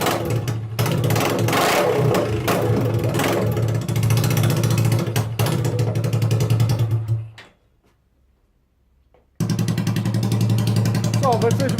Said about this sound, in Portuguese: vocês querem ver a moto a trabalhar, não é?